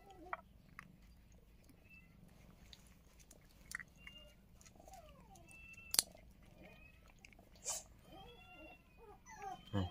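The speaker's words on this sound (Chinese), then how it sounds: "吃的嘎嘎香啊" A small stray black puppy eats food close by in a quiet spot, with soft wet chewing and biting sounds, an occasional faint whimper and a few brief sharper clicks.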